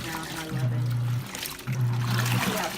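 Water pours from a hose into the open tub of a Giantex portable compact full-automatic washing machine, a steady trickling rush with two stronger low surges, fairly close.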